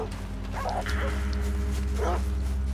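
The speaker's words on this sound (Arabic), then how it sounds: "من فين جات الكلاب هذه؟" Dogs barking in the video game Red Dead Redemption 2, a few distant yips and barks over a steady low game drone, with someone talking in between.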